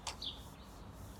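Sparrows give a couple of quick, high chirps in close succession, faint and somewhat distant over a low background hum.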